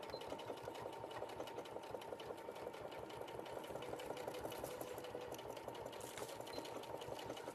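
A sewing machine runs steadily as it stitches a seam, its needle hammering in a fast, even mechanical rhythm throughout, close and fairly quiet with no voices.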